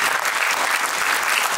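An audience at a Sikh arts and film festival breaks into loud, dense applause for an honoured guest, a steady burst of clapping heard alone.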